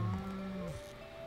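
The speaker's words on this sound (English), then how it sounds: "Say hello to my cow." A cartoonish cow moos once in the farming game Stardew Valley, a short, close, low bovine call that fades away within about a second.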